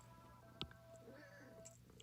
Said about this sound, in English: She did meow.